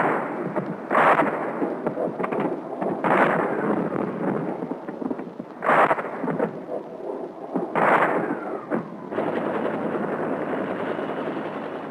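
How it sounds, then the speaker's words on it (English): Israeli Air Force pinpoint bombing near the canal: four heavy, distant-sounding booms roll out at uneven intervals over a constant broad rumbling background. "the Israelis call in the Air Force to quiet things down with pinpoint bombing"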